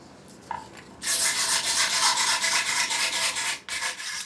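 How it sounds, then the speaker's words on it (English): Teeth of a wooden comb cut from a 100-year-old tree being shaved hard by hand: a close, steady, loud rasping scrape of several seconds, briefly pausing before resuming, with lighter strokes at the start. "He shaves more forcefully."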